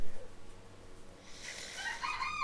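A rooster crows in the background, a drawn-out call rising into a strained, high-pitched cry over about a second and a half, moderately loud after a quieter start.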